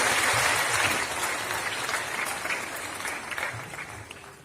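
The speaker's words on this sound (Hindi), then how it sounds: "एक बार आप सभी से निवेदन है जोरदार तालियों के साथ" Steady, dense audience applause fills a large hall at a World Environment Day ceremony at Vigyan Bhawan, New Delhi, welcoming delegates. It is loud at first and tapers slightly over a few seconds, with no voices.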